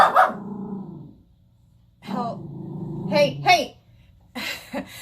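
A female dog growling and barking nearby in a home setting, in short bursts with pauses between them, partly voice-like in tone.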